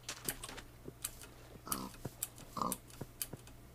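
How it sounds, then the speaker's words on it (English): Minecraft pigs grunting and oinking, two short snorts amid a quick, steady patter of computer keyboard clicks, quiet and close with no speech. "I'm taking my anger out on these pigs."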